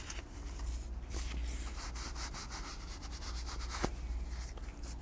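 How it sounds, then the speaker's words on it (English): A paper towel rubbing excess finish off leather while making a holster, a soft continuous scrubbing and rubbing sound, close and quiet, with no voices. "I like to take a paper towel and rub. Take any excess off onto the towel."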